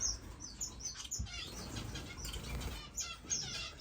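Parrot finches and Gouldian finches in an indoor bird room give repeated high, thin chirps and tweets, scattered close by against soft rustling and fluttering, with no talking.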